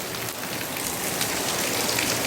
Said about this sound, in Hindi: देख सकते हैं बारिश किस प्रकार रफ्तार पकड़ रही है